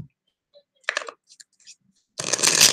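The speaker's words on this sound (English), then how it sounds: "I'm just going to lay out 5 cards." Tarot cards are shuffled and laid out on a table, with a brisk riffle, a few soft taps and slides, then a long, loud, close shuffle to finish.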